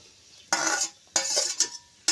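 Bursts of frying sizzle come and go as onion is stirred in a wok over a wood-fired stove, three loud surges with scraping between them, close up and without speech.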